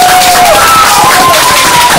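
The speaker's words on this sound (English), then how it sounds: "clap as loud as you can" A crowd claps and cheers loudly in a dense, continuous wash of sound at a school murder-mystery event, with a whistle-like tone gliding above the noise.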